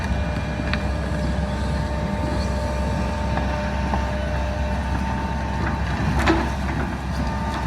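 A tractor engine strains hard while pushing with its blade, a steady loud low drone with grinding and rumble, close, with a few faint knocks and clanks and no talk.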